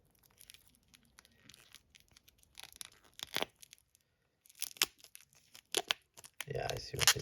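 Tape peels and tears from a mod kit package in short crackly bursts, with crinkling packaging between them, close and fairly quiet.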